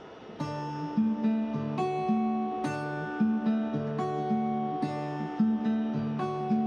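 Clean acoustic guitar in Travis-style fingerpicking, an alternating thumb bass pattern under plucked melody notes, steady and moderately quiet, no voices.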